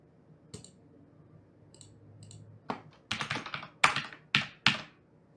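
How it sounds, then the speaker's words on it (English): Keys clack on a Bloody Lightstrike keyboard, a few soft scattered taps at first, then a run of loud, sharp, close keystrokes with a fast uneven rhythm. "This one is a Bloody Lightstrike keyboard, and I really like it."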